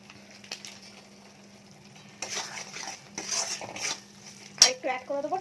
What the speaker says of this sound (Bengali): মশলাটা কষাই হচ্ছে, দেখতেই পাচ্ছ